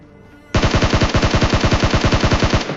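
Rapid automatic gunfire in a mobile battle royale shooter game, a loud burst of evenly spaced shots that starts abruptly after a quiet moment and rattles on steadily to the end.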